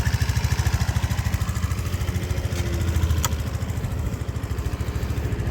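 A Suzuki Address 125S scooter engine runs steadily after a kickstart, a close, even, pulsing idle that holds its rhythm throughout with no talk.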